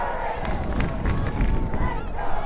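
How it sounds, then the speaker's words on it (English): Lacrosse crowd at Cooper Field during a Notre Dame men's college lacrosse game, a steady dense roar of many voices with rising surges of cheering, sustained throughout at close range. "His crowd getting into it a little bit more."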